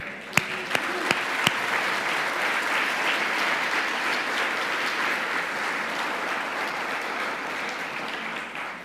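A church congregation at a Seven Last Words service breaks into steady, sustained applause after a few sharp early claps, filling the room evenly throughout.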